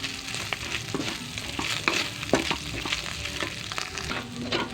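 Spaghetti sauce with toasted garlic sizzling loudly in a frying pan while being stirred, a dense crackle broken by irregular scraping and clinking strokes of the utensil, close up and continuous, no talking.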